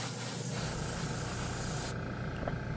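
An airbrush sprays acrylic candy paint with a steady hiss of air up close, with a soft lower rumble, then abruptly thins partway through.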